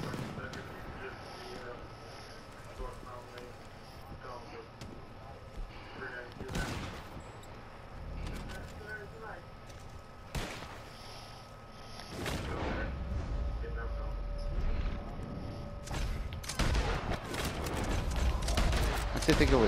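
Game gunfire rings out in a battle on open plains, with scattered shots and bursts under ongoing talk and mixed game noise, growing denser and louder toward the end.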